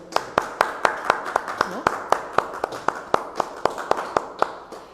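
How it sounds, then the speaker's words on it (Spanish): Steady, evenly paced hand clapping at the close of a talk: about twenty sharp, close claps in unison over a soft, continuous background murmur. "Vamos a aplaudir."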